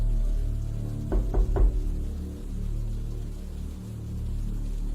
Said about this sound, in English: it sounded like somebody was knocking from inside the large closet next to the bathroom